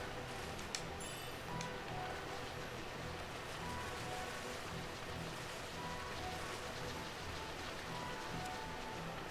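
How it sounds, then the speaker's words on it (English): Steady rainfall in Final Fantasy 12, a dense, even patter of drops on surfaces that continues unbroken throughout, soft and ambient with a faint brief chirp early on. "The rain here is pretty relaxing, I gotta say."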